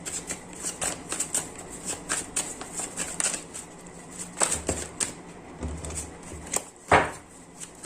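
Tarot cards being shuffled and drawn during a reading, heard as close papery flicks, riffles and soft slaps in irregular bursts, with one sharper card snap near the end.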